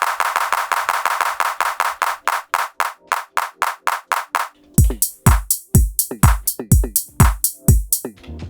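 A clap sample sequenced on an Elektron Digitakt, sounding as a fast, even run of sharp, loud clap hits, then a second stretch where punchier hits with a deep low thump alternate, all dry and with no talk.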